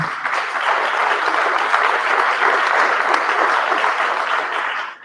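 An audience applauds steadily for about five seconds at an update on Belmont Fest at Saratoga, a dense, even wash of clapping that fades out at the end.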